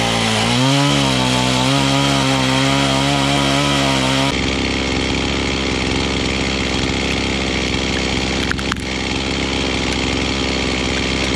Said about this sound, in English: I'm gonna knock all that off with the chainsaw